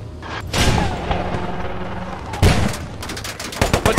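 A Cromwell tank's coaxial machine gun fires in the World War 2 game Post Scriptum as a loud rattling burst, then a heavy boom and more rapid automatic bursts, with engine rumble underneath and no talk.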